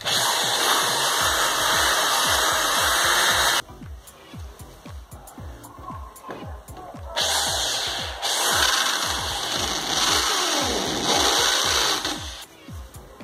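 An electric drill bores holes in a wall to mount a modular headboard, with a piece of PET bottle held below each hole. A loud whining buzz runs in long bursts separated by quieter pauses.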